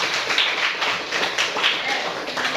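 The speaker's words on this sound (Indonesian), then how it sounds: "Applause for your friend." Applause in a classroom for a classmate: a short, steady burst of many hands clapping together, filling the room at moderate loudness.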